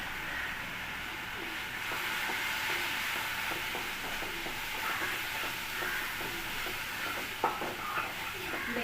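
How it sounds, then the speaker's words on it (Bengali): Spices with chilli powder frying in a pan, a soft continuous sizzle under faint scraping stirs and a few light clicks, fairly quiet and steady throughout. "দেখুন মশলাটা ভাজা হয়ে গেছে।"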